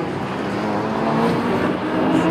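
Cars passing on a street, a loud continuous rush of traffic noise that swells slightly toward the end, heard alone without talk.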